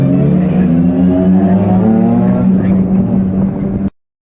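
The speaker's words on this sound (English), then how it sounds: "Beautiful engine noises there, and none of our cars in sight" A loud car engine roars and revs steadily with a deep, sustained drone, then cuts off abruptly near the end.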